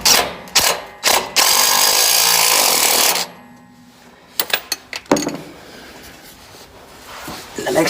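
Power tool tightening a nut on a shock absorber in a garage: loud impact-wrench bursts in the first few seconds, then quieter clicks and a short rattling burst around five seconds.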